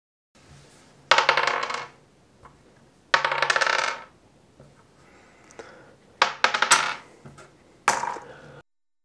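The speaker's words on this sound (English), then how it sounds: "Everyone has like three dice and then you're going to roll." A handful of three dice are thrown and rolled across a hard surface in four separate bursts, each a sharp clattering rattle that quickly dies away, with quiet pauses between.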